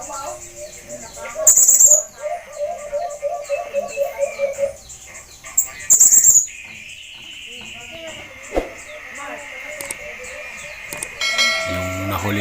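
An alimokon dove gives soft, repeated hooting calls in a steady series, broken by sharper chirps and an insect-like buzz, with occasional background noise.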